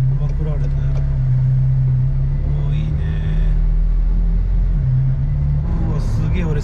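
A McLaren Senna LM cruising city streets, its engine a loud, close, steady low drone with slight shifts in pitch while people talk inside the cabin.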